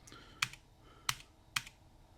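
Three sharp, separate keystrokes on a new external keyboard attached to a Husky Hunter handheld computer, each a crisp clack spaced about half a second apart, close and alone with no voices.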